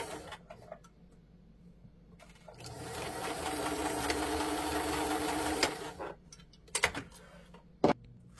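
A sewing machine runs a short burst of stitching at moderate volume over a fabric seam to back stitch it, then falls quiet, with a few sharp clicks and handling knocks after it.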